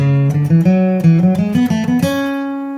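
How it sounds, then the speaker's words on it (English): Flatpicked acoustic guitar in a traditional bluegrass hornpipe, with the first two notes of each chord picked quickly. Crisp, bright notes fall in quick pairs, ending on a sustained ringing note, close and loud with no talking. "I like to pick the first two notes of each chord quickly"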